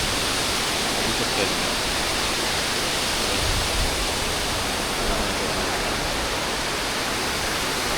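A river flowing beside an old riverside temple makes a dense, unbroken broadband rush, even and fairly loud throughout with no distinct events.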